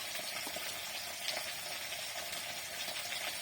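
Potatoes frying in a pan of hot oil while a Bengali moong dal and banana blossom dish is prepared, a steady close hiss and crackle with small spitting pops and no talk.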